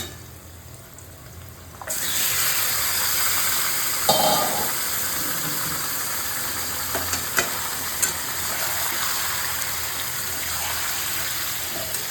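Chicken frying with onions in a pan, a sudden loud sizzle that starts as the pieces go in and then holds steady, with a few stirring knocks and no talking.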